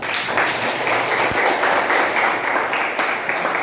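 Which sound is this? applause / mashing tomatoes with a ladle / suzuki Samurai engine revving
applause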